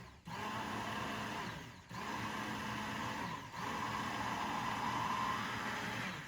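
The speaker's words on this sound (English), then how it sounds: "with the immersion blender and make sure everything at the bottom of the jar mixes first before we start lifting the blender up" An immersion blender whirs steadily in a jar as it emulsifies mayonnaise, running in three sustained bursts separated by brief dips, close and fairly quiet with no voices.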